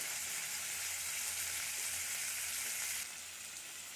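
Crab pieces sizzle steadily in hot oil with salt and turmeric in a kadai for a village-style Odia crab curry. The frying hiss is close and continuous, easing slightly toward the end, with no voices.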